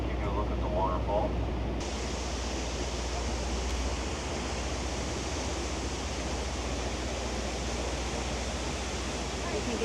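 A waterfall cascades down granite walls in a fjord cove, heard as a steady broadband rush of falling water, moderately loud and continuous from a boat nearby, with a brief low engine rumble at the start.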